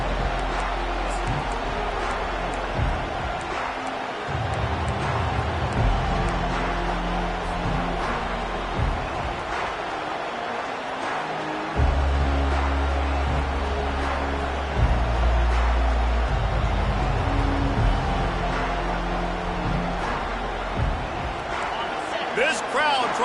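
Loud, steady roar of a packed stadium crowd at a college football game against Ohio State, with surges and swells of noise and sharp bangs scattered through, under continuous play-by-play commentary.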